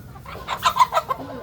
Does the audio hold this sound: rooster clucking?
yes